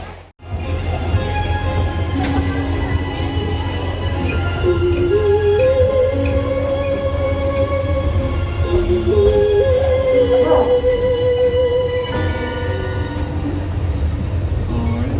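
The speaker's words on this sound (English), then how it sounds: "train's coming back in." A small amusement park train at Gatorland rumbles steadily nearby with a low continuous drone, a rising whistle-like tone sounding through the middle, and faint voices in the background.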